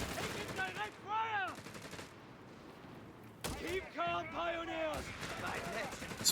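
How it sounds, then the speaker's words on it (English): Sniper rifle shots and heavy machine gun bursts from a Company of Heroes 3 battle crack out in several close, loud volleys separated by brief lulls, with a commentator's voice talking over the combat. "Sniper still plinking away, it looks like."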